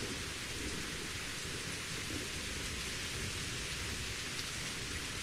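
Steady heavy rain with rolling thunder during a thunderstorm in the video game Survival: Postapocalypse Now, a continuous dense hiss of downpour throughout without talk.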